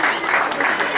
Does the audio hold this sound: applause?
yes